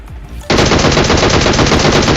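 Sustained automatic gunfire from a bot in PUBG Mobile, a rapid unbroken burst of loud shots starting abruptly and continuing to the end.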